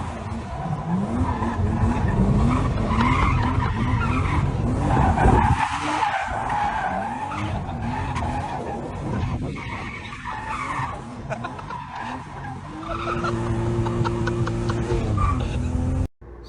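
S52-swapped BMW E34 skidding with sustained tire squeal and a roaring, revving engine, loud and close throughout, briefly easing midway before the squeal swells again and cuts off abruptly.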